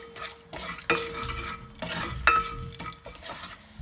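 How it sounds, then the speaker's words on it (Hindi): Cumin, mustard seeds, fenugreek seeds and red chillies sizzle in hot oil for a tempering in Hyderabadi bagara baingan, with steady loud frying, scraping stirs and a few pan clinks close by. "भगार के लिए हम चीज़ ऐड कर देंगे, ज़ीरा, मस्टर्ड सीड, मेथी दाना और लाल मिर्च।"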